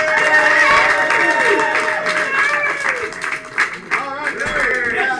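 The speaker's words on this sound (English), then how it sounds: "with a loud round of applause" Studio audience applause on a live game show, a burst of clapping and crowd noise at the start that quickly gives way to a host talking over the fading claps.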